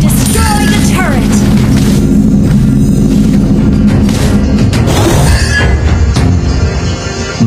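A turret being destroyed in Mobile Legends: Bang Bang, a loud crashing boom with shattering debris amid dense battle noise and music, followed by trailing rumble and clatter.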